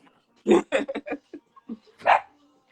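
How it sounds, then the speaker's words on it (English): A dog barks in a quick series of sharp yips and barks, several bursts close together and then one more after a pause, fairly close and clear with little else behind it. "Shouts out to the dog in the background."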